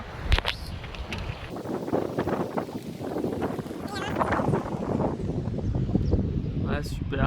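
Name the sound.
light wind on a golf course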